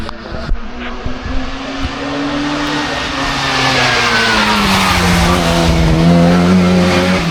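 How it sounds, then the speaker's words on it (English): A race car at a hill climb brakes hard and spins around, tyres squealing in a long rising and falling screech over loud engine revs that build toward the end. "Hard on the brakes, get that car spun around and start behind it."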